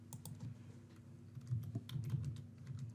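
Keys clatter on a computer keyboard in a quick, uneven run of light clicks, close and fairly quiet, with no voice over them.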